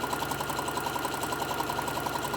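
A sewing machine stitches a fabric lanyard with a fast, steady, even whir and rapid mechanical ticking, loud and close, with no talking.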